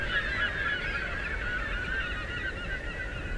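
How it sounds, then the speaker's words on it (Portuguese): A flock of birds honking and calling in the Tomb Raider video game, a dense continuous chorus of overlapping goose-like cries over steady ambient noise throughout. "Nossa, olha o tanto de pássaro ali."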